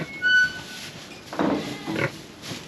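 A newly arrived pig on a busy farm gives a few low, close grunts and snuffling sniffs in short bursts, after a brief high squeak-like sound at the start.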